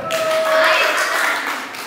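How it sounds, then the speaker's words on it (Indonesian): Hands clapping in an audience at a Sunday school gathering, a steady dense patter of applause at moderate loudness, with some voices mixed in. "Oke, tepuk tangan."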